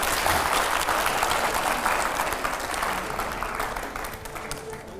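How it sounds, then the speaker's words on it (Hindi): A dense, loud burst of audience applause at a Hindi studio show with Imran Pratapgarhi, holding steady and then easing slightly over a few seconds. "जोरदार तालियां हो पहले तो एकदम"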